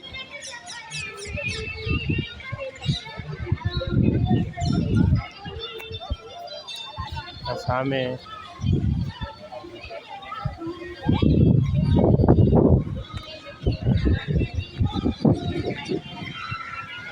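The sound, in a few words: birds at lake in Jamnagar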